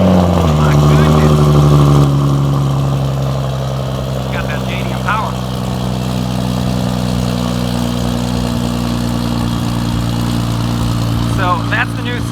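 Big-turbo 800 HP MK4 Toyota Supra running on E85, idling with a steady low engine drone and rough harmonic burble throughout, a brief louder rev near the start, with people talking over it.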